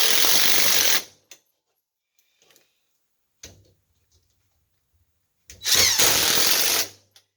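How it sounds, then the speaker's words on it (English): A power drill drives screws into T-track for a router sled fence in two loud bursts of about a second each, separated by near silence with a few faint clicks and taps between them. "now we're going to go ahead and put the screws in"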